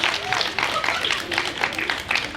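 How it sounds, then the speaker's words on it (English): Applause at an awards banquet, dense patter of clapping filling the room as a level-8 honoree is called up, with voices and crowd noise mixed in throughout. "Clap for Sasha."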